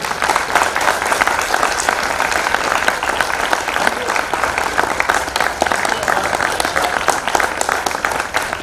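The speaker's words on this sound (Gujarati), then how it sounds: "એક વખત જોરદાર તાળીઓ." Loud, sustained applause from an audience at an outdoor Gujarati poetry recital on the Porbandar seashore, dense steady clapping filling the whole stretch without a break.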